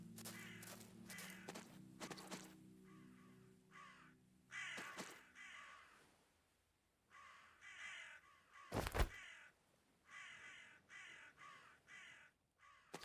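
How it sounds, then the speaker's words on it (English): Crows caw repeatedly in the open countryside of a medieval village-building game, harsh calls scattered across the scene at moderate distance, mixed with rustling ambience, footsteps and a sharp thump, with no talking. "Hear a lot of birds."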